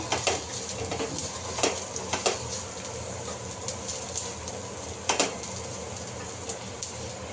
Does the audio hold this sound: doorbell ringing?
no